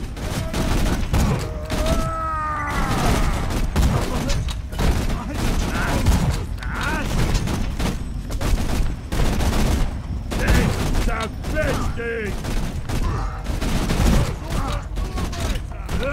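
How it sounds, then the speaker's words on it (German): Sustained gunfire in Borderlands 2 aimed at a Goliath enemy, dense bursts and rapid shots running continuously and loud throughout, with game effects mixed in. "Warte, warte, wir schießen auf den Goliath."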